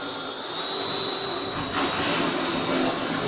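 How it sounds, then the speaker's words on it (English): Spot weld drill bit cutting out spot welds on a rusty car bonnet, a steady loud hissing, whining drill sound running throughout without pause. "So what I'm going to do now is drill out the fucking things."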